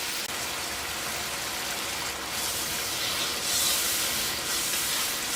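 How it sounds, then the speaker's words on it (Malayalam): Boiling water is poured into apple pickle, making a continuous broadband hiss and splashy rush that swells briefly partway through, close and steady. "നല്ല തളച്ച വെള്ളം ഒഴിക്കുക"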